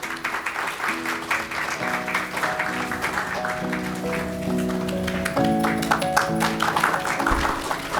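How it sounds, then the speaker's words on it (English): Audience at a talks event applauds, a continuous patter of clapping throughout, while sustained tones ring out and a voice sounds partway through. "Can we have a round of applause?"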